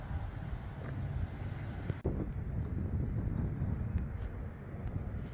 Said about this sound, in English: Shame it's a bit cold and windy today.